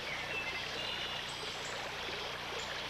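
Fresh mountain stream in the Kootenays near the Rocky Mountains, flowing with a soft, even hiss and faint trickling, steady and quiet throughout with no voices.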